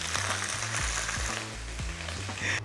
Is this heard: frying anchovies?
yes